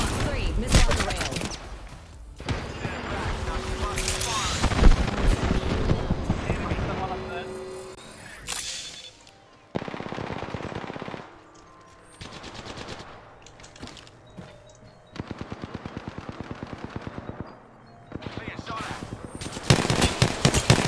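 Apex Legends gunfire: loud, close automatic bursts and sustained rattling fire with ability and impact effects, varying in intensity across the stretch, with a few short pauses between exchanges.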